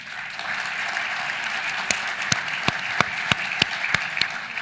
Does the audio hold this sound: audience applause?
yes